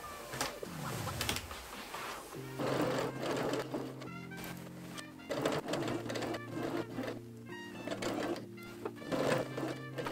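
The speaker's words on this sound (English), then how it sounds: "sew 3/8 of an inch or 1 centimeter along the top of your bodice." A sewing machine stitches a lining to the top seam of a dress bodice, its motor whirring in steady bursts that start and stop across the clip, close and clear, with no talk.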